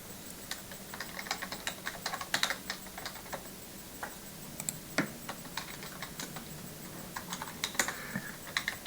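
Keys on a computer keyboard click in quick irregular bursts as a command is typed, fairly close and clear over a quiet room hum, with no talking.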